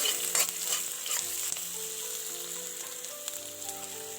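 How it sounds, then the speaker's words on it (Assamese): Onion, garlic, ginger and bay leaf fry in a pan with a soft, continuous sizzle. A few stirring scrapes come early, and the sound is close but quiet and steady. "এয়া মই পিঁয়াজ নহৰু আদা আৰু তেজপাত দি ভাজি আছোঁ"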